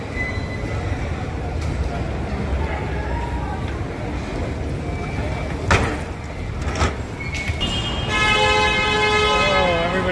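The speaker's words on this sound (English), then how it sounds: "everybody's honking their horn" Car horns honking around a Fort Lauderdale airport arrival, short toots building to a sustained loud blare near the end, over a rumbling background with scattered clunks and voices.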